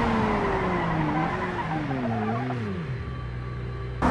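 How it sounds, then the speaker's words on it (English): An Audi braking hard in BeamNG.Drive, its engine note sweeping downward as the tires squeal and skid across the pavement, loud and continuous, settling into a steady low hum before a sudden burst at the end. "Audi brake test"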